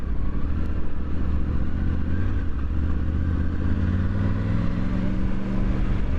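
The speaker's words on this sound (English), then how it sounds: "so clutchless down, like so, and with power on, obviously you can go up through the gears" A Triumph Tiger 900 Rally Pro motorcycle engine drones steadily close by as the rider shifts up through the gears with power on, the pitch climbing and settling under heavy wind rumble.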